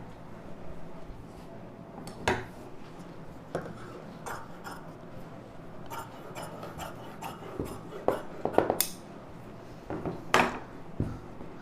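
Scissors snip through lining fabric for a baby frock, giving quiet, irregular crisp cuts and small scraping handling noises over a faint, steady room background.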